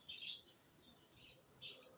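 Three short, high chirps from a pet bird indoors, spaced across a couple of seconds, fairly faint against a quiet room background.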